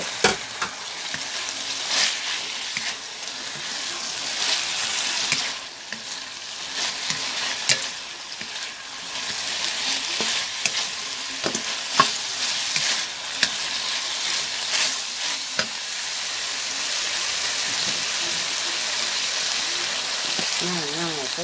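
Bean sprouts stir-fried with crispy fried pork skin in a pan, a loud continuous sizzle with scraping and tossing of the spatula, close up, with someone talking over it at times.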